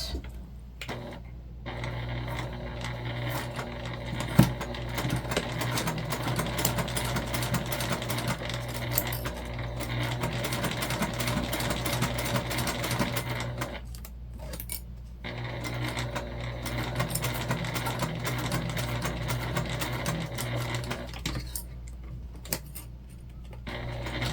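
A sewing machine stitches a seam on a waist pack in bursts of rapid, steady mechanical whirring, pausing briefly a few times between runs, close and clear with no talking.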